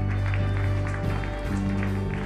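A church congregation stands and applauds, a dense sustained wash of many hands clapping under loud worship music.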